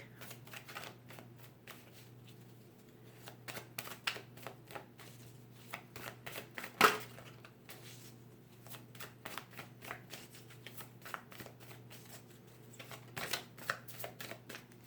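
A Goddess Guidance oracle card deck is shuffled by hand in repeated quick riffling bursts, close and soft, with brief pauses between rounds and a faint steady hum underneath.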